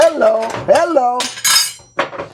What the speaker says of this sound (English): We're just mixing all these spices in here together.